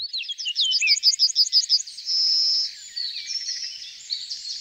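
Yellowhammer song: a quick series of repeated clipped notes ending in a drawn-out wheezy tone, followed by more twittering from birds nearby, fairly close and clear.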